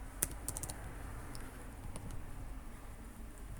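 Keys clatter on a computer keyboard as a zip code is entered, a few sharp clicks near the start and then quieter, sparse taps over a low background hum.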